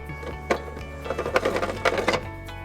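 A disc is fitted and tightened on a pasta extruder for angel hair, producing a quiet run of plastic clicks, taps and ratcheting rattles, sparse at first and then denser.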